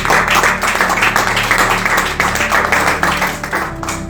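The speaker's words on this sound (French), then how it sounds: "Acclamons le Seigneur Jésus." A church congregation claps and applauds at length, a dense even roar of many hands with a faint voice or two mixed in.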